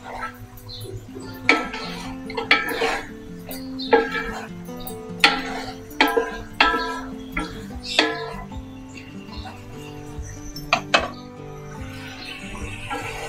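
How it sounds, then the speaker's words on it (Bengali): Fried rohu fish head goes into a pot for a mung dal muri ghonto and is stirred, giving repeated clinks and scrapes of a utensil against the pot in an irregular rhythm. Faint background noise runs underneath, with no talk. "এখন দিয়ে দিচ্ছি আমি ভেজে রাখা মাছের মাথা।"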